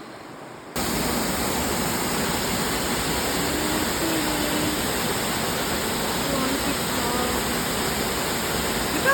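A cold creek on the Appalachian Trail rushes steadily around a hiker's bare feet, a loud, close, continuous broadband wash of flowing water with a voice speaking over it.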